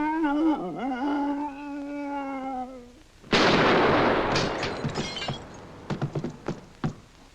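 A single loud gunshot bursts out in a 1955 British comedy film, followed by crashing and breaking clatter with sharp knocks trailing off, after a man's drawn-out vocal cry.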